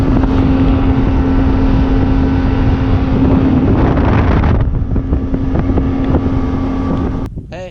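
A fishing boat's motor runs steadily and loud on a lake, a low droning hum with wind buffeting the microphone, cutting off abruptly near the end.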